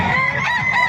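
Loud harsh crowing and honking calls from roosters for sale at a chicken market in Calumpit, Bulacan, close by and overlapping in a short burst.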